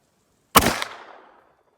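A single loud, close gunshot from a Contender pistol chambered in .44 Magnum, fired outdoors on a range, with a sharp blast and a short fading tail.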